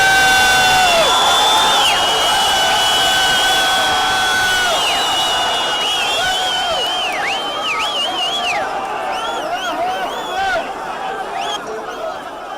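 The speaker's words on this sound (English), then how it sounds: "buses of Israeli hostages arrived to thousands of people cheering in the streets" Thousands of people crowd the streets cheering as buses carrying returning Israeli hostages arrive, a dense roar of shouts and high whoops, loud at first and slowly easing toward the end.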